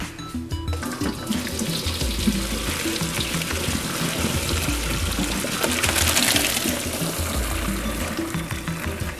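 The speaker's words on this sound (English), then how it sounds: "We're gonna bring it to the sink and drain it." Cooked pasta poured into a colander in a kitchen sink, a steady loud rush and splash of draining water running continuously with a swell in the middle.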